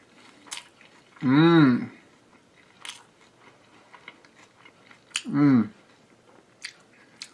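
Two loud, close crunching bites into a big taco made with lettuce, onions and shredded mozzarella and cheddar, each followed by quieter chewing in an otherwise quiet room.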